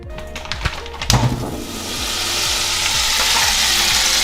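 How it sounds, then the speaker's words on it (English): Butter melts in a pot for a cookie recipe, with a few sharp clinks and scrapes at first, then a rising, steady sizzle that holds alone to the end. "we want to get our butter and melt it in this pot here"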